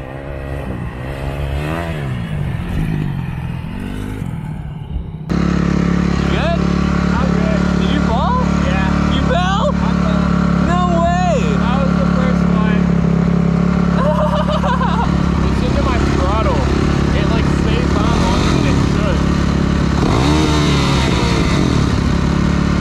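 Dirt bike engines rev and drone continuously in a desert setting, loud and close with rising and falling pitch, while people talk over them.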